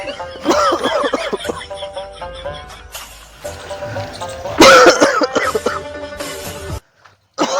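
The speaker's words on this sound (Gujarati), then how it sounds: "ઓ અંડો ઉધરસ જ આવી ગઈ" Several people cough in a Gujarati comedy skit, bursts of harsh coughing and throat noises repeating close by over a bright, busy background, with a louder burst near the end before a brief gap of silence.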